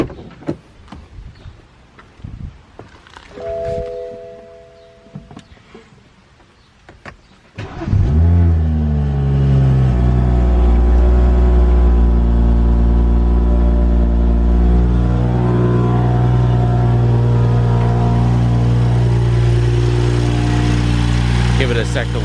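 A BMW F30 335i with the stock intake and a blow-off valve starts up loud and close, then holds a steady, sustained engine drone after quieter opening noises with faint talk.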